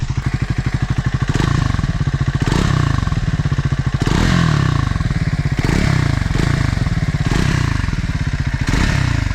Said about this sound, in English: It is a bassy and throaty exhaust.